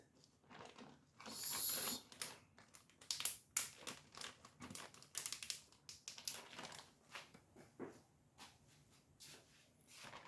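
A plastic Ziploc bag handled close by in a kitchen while storing pasta sauce, giving soft irregular crinkles and rustles with a louder crackling burst early on.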